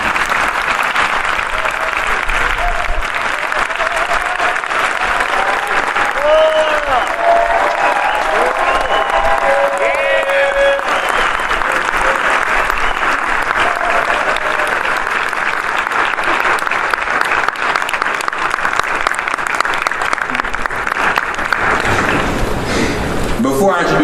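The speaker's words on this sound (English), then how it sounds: "Give him a round of applause" A large audience at an MLK Day event gives a sustained round of applause for a guest being welcomed on stage, loud and steady dense clapping lasting over twenty seconds, with voices and cheers mixed in.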